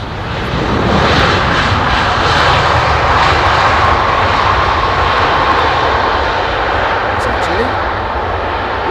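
A LOT Boeing 737 MAX in special livery roars past at London Heathrow, its jet engines loud and steady for several seconds, the broad rumble holding close with no pause.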